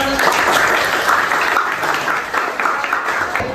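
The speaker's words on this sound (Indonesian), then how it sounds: "Tepuk tangan dulu untuk Bu Ira." Students give a teacher a round of applause during a classroom teaching practice session. The clapping is loud, dense and steady for a few seconds, and a few faint voices mix in.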